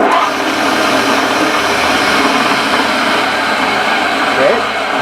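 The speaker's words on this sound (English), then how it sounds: "Another saw that we built here in our shop, it is a 20-inch chop saw." A shop-built 20-inch chop saw driven by a 15 horsepower 3-phase motor, giving off a loud, steady broadband roar that holds constant throughout without a break.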